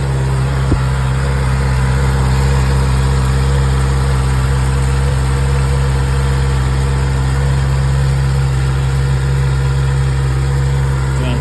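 A 2024 Honda CB650R motorcycle with its stock exhaust pipe idles steadily and close by, a continuous low, even rumble that runs throughout with no voices.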